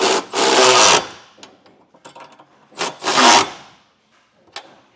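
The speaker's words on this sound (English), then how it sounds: "So I'll just hold it from the back while I tighten it down to make sure it doesn't move." A tool ratchets in two short bursts while bolts are tightened on a trailer hitch receiver on a 2019 Hyundai Santa Fe, with faint clicks and handling noises between the bursts.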